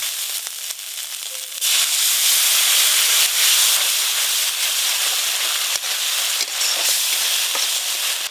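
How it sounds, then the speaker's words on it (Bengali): Water poured over salt, turmeric and spice masala frying in a pan, a burst of loud steady hissing sizzle that stays strong and close to the end, with no talking. "লবণ, মশলা খুব ভালো করে কষে নিয়েছি। এর উপর দিয়ে জল দিয়ে দেবো।"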